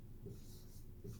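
Marker or chalk strokes scratch across a classroom board in two short, faint squeaky bursts over a low background hum.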